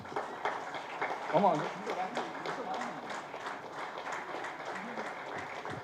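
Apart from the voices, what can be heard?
audience applause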